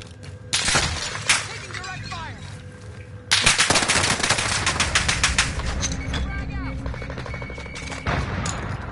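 Rapid video game gunfire aimed at the player, loud, dense bursts of automatic shots, sharp and close, with a bigger volley kicking in midway and continuing through to the end under speech.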